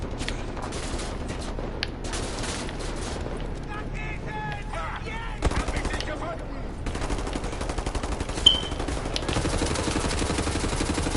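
Enemy gunfire in the Wolfenstein: The New Order shooter, bursts of rapid automatic shots and dense fusillades crackling throughout, with a louder hit near the end, mixed with game noise and talk.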